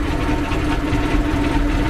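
A small boat's motor chugs steadily nearby on the Alleppey backwaters, a constant low droning hum with a slight rhythmic knock throughout.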